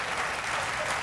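A brief stretch of studio audience applause on a late-night talk show, steady and dense clapping from a large crowd with no voices standing out.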